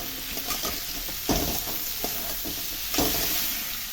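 Slit green chilies and chopped tomato go into spices frying in a pan for a quick chicken dish, giving a loud, steady sizzle broken by several stirring scrapes.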